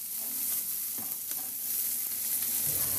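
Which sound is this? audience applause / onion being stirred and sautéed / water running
onion being stirred and sautéed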